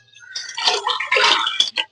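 Water splashes and pours over spiny brinjal as it is rinsed, coming in close, uneven bursts that swell and break off over about a second and a half, ending in a few short splashes.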